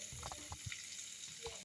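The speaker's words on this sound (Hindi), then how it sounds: "इस मसाला को भूनते हुए मुझे 4 से 5 मिनट हो गया है लो फ्लेम पे" Masala with tomato frying slowly in oil on a low flame, giving a faint, steady sizzle with soft crackles and occasional stirring noises.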